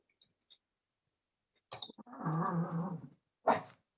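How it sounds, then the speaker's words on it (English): A dog growls in a low, throaty rumble for about a second, close to the microphone in a room during an online session. A few faint ticks come before it, and a short sharp bark-like burst follows. "Sorry, the dog."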